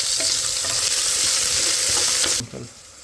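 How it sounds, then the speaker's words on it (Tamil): Sambar ingredients sautéing in a pan: loud, continuous sizzling and frying under repeated scraping stirs, with the hiss dropping away sharply near the end as the pan is stirred or lifted. "இப்போ நல்லா வதக்கி எடுத்துக்கொள்ளுவோம்."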